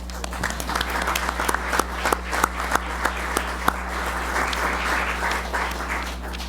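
Scattered applause rises in a city commission meeting chamber, with sharp individual claps over a steady electrical hum, moderately distant and continuing for several seconds.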